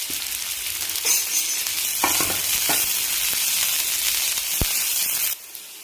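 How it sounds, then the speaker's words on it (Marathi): Sliced onion sizzles in hot oil in a pan for a Marathwada-style black-chili dumpling curry, a steady bright crackling hiss with a few stirring knocks before the sizzle cuts off abruptly near the end. "तेलामध्ये तेल गरम झालं की हा कांदा आपण सोडून असा टाकू आणि भाजून घेऊ।"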